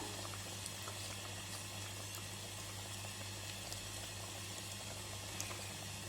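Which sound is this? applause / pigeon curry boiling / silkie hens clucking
pigeon curry boiling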